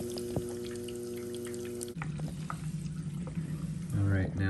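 A Bosch dishwasher filling with water, a soft rushing and trickling flow under a steady machine hum, shifting in tone midway and ending with a louder gurgling surge.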